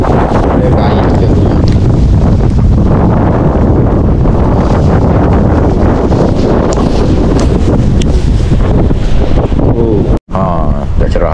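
Strong wind at sea buffets a boat at dawn during a fishing trip, a loud, constant roar battering the microphone. Faint rustling and water sounds sit beneath it, with a brief dropout near the end.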